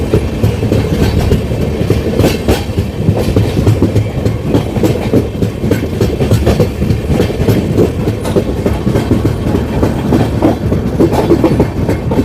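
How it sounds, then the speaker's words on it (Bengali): A passenger train runs through the hills near New Haflong station on a rainy day, with loud, steady clickety-clack wheel rhythm and rumble filling the whole stretch, close up and with no voices. "পুরো ট্রেনটা দেখা যাবে।"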